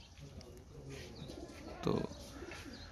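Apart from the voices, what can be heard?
pigeons cooing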